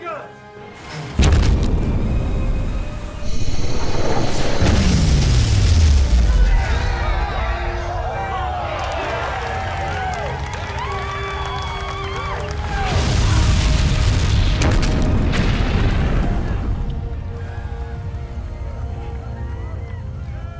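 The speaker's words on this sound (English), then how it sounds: "Target that ship! Fire main guns!" Spaceship main guns firing and explosions in a sci-fi movie battle against an alien armada, deep rumbling booms and a descending roar, a second swelling blast later, with warbling electronic effects and voices under the din.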